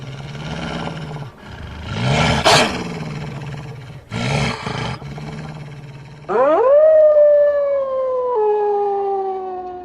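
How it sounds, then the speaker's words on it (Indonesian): A loud, eerie animal-like howl rises and wavers, preceded by deep roaring growls, then stretches into a long sustained wail that slowly falls away, alone with no talk. "Suara lolongan menggema ke seluruh penjuru rumah."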